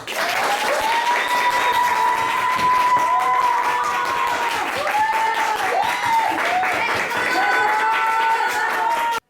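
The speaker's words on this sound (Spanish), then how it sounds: "Vamos a verla y recibámosla con un fuerte, fuerte aplauso." Loud, sustained audience applause at a storytelling talk, dense steady clapping with a few cheers from the crowd that holds at full strength throughout.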